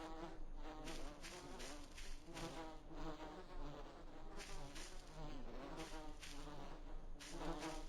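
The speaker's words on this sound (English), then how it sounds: "Why are these bees so loud?" Loud, continuous buzzing of a swarm of bees in the video game Voices of the Void, a dense insect drone with pulsing swells that fills the whole stretch without any talk.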